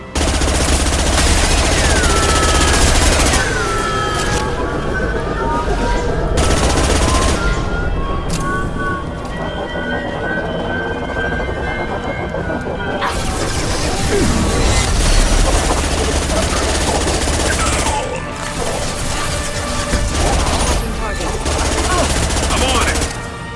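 Video game gunfire fills the Mass Effect 2 Legendary Edition suicide mission as shots target an injection tube, with loud continuous automatic fire and explosive bursts over a dense battle din, while voices talk through it.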